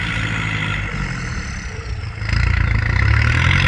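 Kubota L5018 tractor diesel engine fitted with a Mitsubishi 05 turbo, running with a rough clattering rumble that rises and grows louder partway through, close by.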